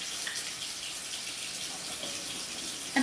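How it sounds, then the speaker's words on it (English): Tap water runs steadily as hands are washed in a home kitchen before baking granola, a continuous close rushing splash with no talk over it. "I'm gonna wash my hands."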